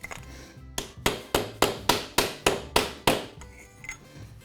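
Sharp metallic hammer strikes drive a shock absorber part into place on a 2018 Dodge Charger, about eight evenly spaced loud blows close by with a short pause before the final hits and no talking.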